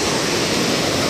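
Steady broadband wash of surf at Myrtle Beach, a continuous rushing roar with no distinct wave breaks, fairly loud and unbroken throughout.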